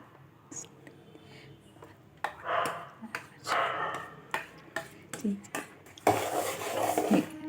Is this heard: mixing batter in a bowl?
yes